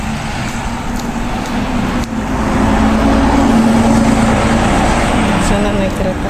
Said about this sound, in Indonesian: Nah, itu busnya tuh.